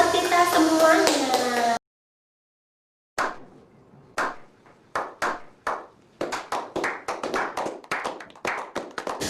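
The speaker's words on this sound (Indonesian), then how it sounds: "Tepuk tangan buat kita semuanya." Children clapping hands during a lively Indonesian kids' singing session: after a brief silence, sharp separate claps begin sparse, then quicken into a dense, steady run of close, loud hand claps, following a burst of music at the start.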